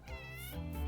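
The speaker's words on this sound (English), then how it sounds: "That's a cat!" A cat in the survival game 60 Seconds! gives one drawn-out, clear meow, close and alone.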